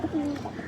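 A pigeon coos close by in a short, low, drawn-out call lasting under a second, set against faint background noise, at a pigeon market.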